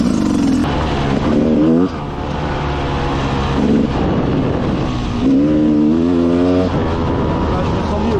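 An enduro motorcycle engine revving and shifting as the rider moves off-road, rising and falling in pitch, loud and close throughout with brief drops between pulls.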